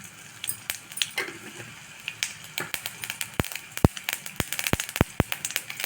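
Mustard seeds pop and splutter in hot oil with asafoetida, sharp irregular cracks that quicken toward the end over a soft sizzle, close and fairly loud.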